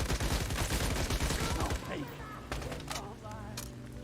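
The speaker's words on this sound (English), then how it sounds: "The light machine gun has 100 ammunition capacity, so you can actually go trigger happy with this weapon." A light machine gun in the Once Human survival shooter fires a long, rapid, dense burst that stops partway through, followed by quieter echoes and fainter game sounds.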